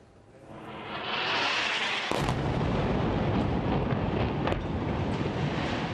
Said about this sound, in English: Flares and explosions light up a night sky over a terrified population.